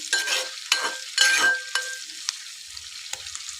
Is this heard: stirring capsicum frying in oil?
yes